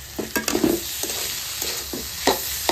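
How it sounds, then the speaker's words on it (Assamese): Food frying in a hot pan on a home kitchen stove, a soft steady sizzle broken by repeated scraping strokes of a spatula stirring close up. "এইফালে ভাজি হৈ আছে"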